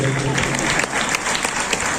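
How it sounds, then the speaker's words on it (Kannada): An audience claps along steadily at a devotional cultural program in Mumbai, accompanied by flute, guitar and tala. The dense, continuous clapping fills the whole stretch, with voices mixed in. "ಚಪ್ಪಾಳೆಯಲ್ಲಿ ತಾವೆಲ್ಲರು"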